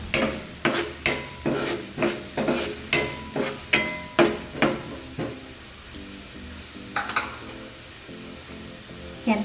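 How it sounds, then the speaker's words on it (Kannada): Carrots, capsicum and other vegetables fry lightly in a pan for vegetable pasta, a steady sizzle broken by a regular rhythm of sharp spatula scrapes and knocks that thin out toward the end, with no talking. "ಲೈಟಾಗಿ ಫ್ರೈ ಮಾಡಬೇಕು ಫ್ರೆಂಡ್ಸ್ ಎಲ್ಲ ತರಕಾರಿನ."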